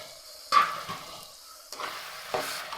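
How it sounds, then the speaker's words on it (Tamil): Ground tomato is stirred into a hot pan while making a liver gravy. The soft sizzle is broken by a few scraping stirs, close by and fairly quiet. "இதையும் போட்டு இதில் கலந்து விட்டுருங்க இதுவும் பச்சை வாசனை ஓரளவுக்கு வதக்கிக்கணும்"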